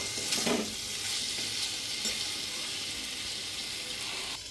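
Potato and pumpkin pieces fry in oil in a wok, giving a steady, close sizzle that holds an even level throughout with no voices over it.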